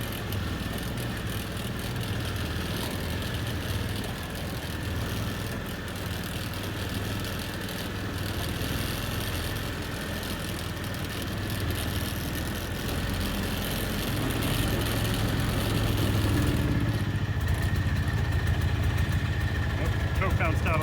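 Max II 6x6 amphibious vehicle engine idling while it warms up, a steady low droning rumble heard close and continuous, with a voice talking over it.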